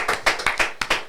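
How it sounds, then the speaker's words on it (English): A few sharp hand claps, roughly five quick, close, distinct slaps with short gaps between them, in a Muay Thai training setting. "I'll give you a clap."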